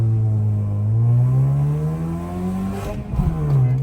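A straight-piped car's engine revs with a rising, droning exhaust note during a test run, then a sharp crackle and surge as it launches, loud and close.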